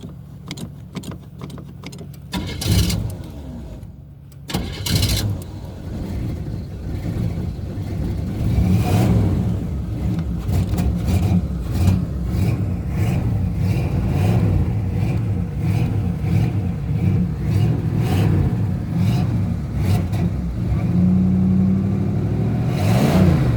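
A car cranks over and catches on a cold start after stalling, its engine revving unevenly and loud up close before settling toward idle, with a brief jangle of keys early on.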